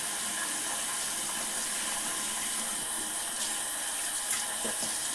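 A makeup brush being rinsed under a running tap, a steady hiss of flowing water into a sink with faint splashes and small knocks, no talking.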